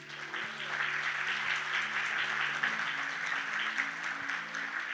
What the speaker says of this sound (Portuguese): Dá uma salva de palmas para o Senhor, irmão.